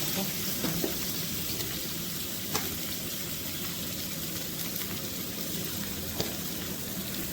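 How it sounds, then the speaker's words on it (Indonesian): Onions and other alliums sautéing in sesame oil in a pan for vegan Korean japchae, a steady close sizzle with faint clinks of a spatula running throughout, no talk. "Kita tumis sampai harum bawangnya."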